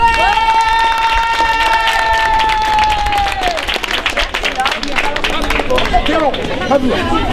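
Audience applause for a small theatre troupe from a residential care home performing improvised theatre at a disability arts festival, a dense steady patter of many hands with crowd chatter and voices mixed in, a sustained whistle-like tone early on.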